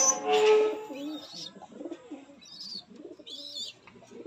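Young pigeons from a breeding loft make soft, low cooing phrases in a few short bursts, with faint higher chirps between them, close by and without talk.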